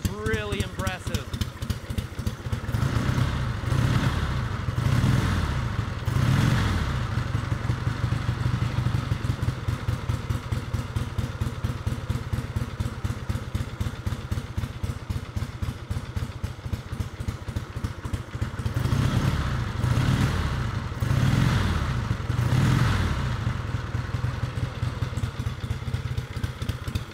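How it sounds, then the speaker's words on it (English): A 1933 Harley-Davidson Woolery Bullet special motorcycle engine runs steadily with a loud, close, thumping and clattering beat, rising in several revs near the start and again later. "1933 Harley-Davidson Woolery Bullet, special machine."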